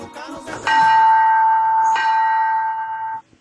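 Two clear strikes of a church bell ring out, each leaving a long, sustained metallic hum that fades away.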